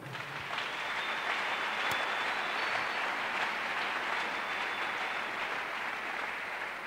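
A church congregation applauds steadily and loudly for several seconds during a worship service, a dense, continuous wash of clapping with no speech over it.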